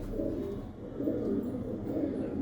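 Patiala pigeons, many of them blue, coo close by in a rooftop loft, a dense, steady rumble of overlapping low throaty calls that swell slightly midway.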